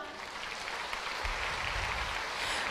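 Audience applause at a company member-sharing presentation: a steady wash of clapping that holds at an even level for a few seconds, with no voices over it.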